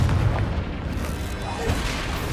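Confringo blasting spell going off in Hogwarts Legacy, a dense, continuous rumbling boom with low-end weight that holds steady for a couple of seconds, with a faint spoken voice under it.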